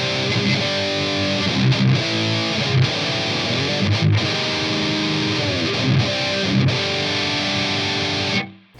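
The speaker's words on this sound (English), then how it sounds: "Kind of becomes a mess if you crank the distortion up past where we had it." A heavily distorted electric guitar through a Boss Metalcore distortion pedal plays loud, saturated chords and notes, dense and buzzy, ending abruptly.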